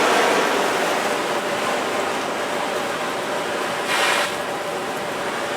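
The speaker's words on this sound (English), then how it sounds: "I'm just going to pour some water on." Water poured onto the roof of a fabric hunting ground blind makes a continuous broadband splashing rush that lasts throughout, with a brief louder surge near the end.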